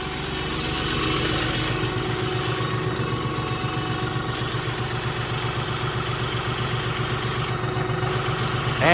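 A tractor engine runs steadily and close by, a continuous low clattering drone while the tractor is used to debark a pine log outdoors in summer.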